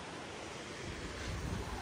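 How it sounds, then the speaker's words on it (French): Steady broadband rush of a waterfall in Laos, a continuous roar of falling water heard from nearby, with no voices. "là-bas, là, c'est la cascade"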